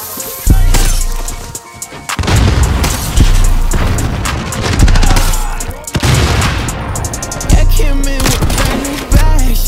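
Loud Call of Duty gunfire, dense bursts of shots and booming blasts that come in waves almost without pause and sit over a heavy bass backing.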